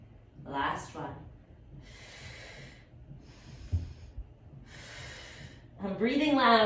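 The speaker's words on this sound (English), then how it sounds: "I'm breathing loud so you can hear me and know what we're doing." Loud rhythmic exhalations from a person exercising, heavy breaths in bursts between stretches of spoken instruction, close and breathy.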